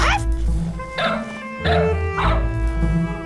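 Several dogs bark and yip in short bursts, close and loud, with pauses between each volley and a voice speaking over parts of it.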